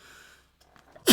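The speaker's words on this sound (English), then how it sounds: "Ooh, I feel like I gotta sneeze." One sudden, close sneeze bursts out at the very end after a moment of quiet breathing.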